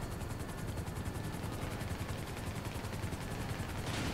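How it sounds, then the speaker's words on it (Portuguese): Dense, continuous rapid gunfire mixed with the rotor chop of police helicopters in GTA V Online, loud and unbroken throughout, like a hectic game battle. "Eu tô atirando uns helicópteros de polícia aqui"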